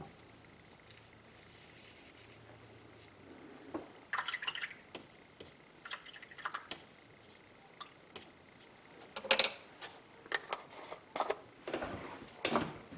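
Paintbrush being swished and tapped in a cup of rinse water while painting, giving a run of soft splashes and clinks in irregular bursts, fairly faint and close, with no talking.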